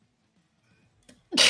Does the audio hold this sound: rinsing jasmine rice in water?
no